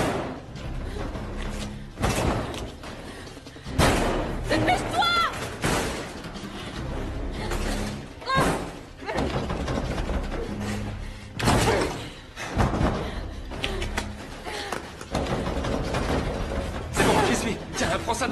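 Repeated heavy door slams and bangs in a horror film scene, loud sharp impacts arriving irregularly over about eighteen seconds, mixed with frantic voices and mechanical clatter.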